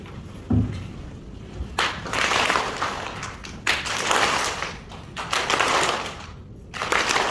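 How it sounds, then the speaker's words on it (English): A group of people at an outdoor yoga celebration clapping hands in several loud bursts of a second or so each, with brief pauses between rounds. "I will clap and then you have to clap."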